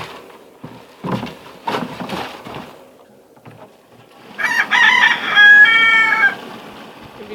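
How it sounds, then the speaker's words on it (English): Roosters on a winter farm crow: after a few scattered clucks and calls, one bird lets out a loud, drawn-out cock-a-doodle-doo near the end, close by and clear against quiet surroundings. "In between the roosters crowing"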